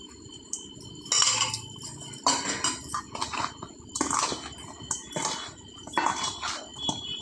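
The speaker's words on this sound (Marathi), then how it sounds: "आपण आता हे तेल याच्यावर घालून घेऊयात आणि नंतर परत एकदा छान मिक्स करूयात" Oil goes over sliced mango ring pickle and is stirred with a spoon, producing a run of short scraping, squelching bursts against the bowl at an irregular rhythm.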